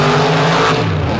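Monster Masher race vehicles in an All Star Championship drag final, one lighter in the far lane and a heavyweight in the near lane, roar loudly together with a dense, sustained engine howl that shifts pitch partway through.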